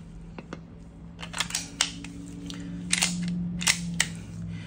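Handgun mechanism clicks from a Ruger Max 9 or Smith & Wesson M&P9 Shield pistol with the magazine removed, several sharp metallic snaps and slide-like clacks scattered irregularly over a low steady hum, close and crisp.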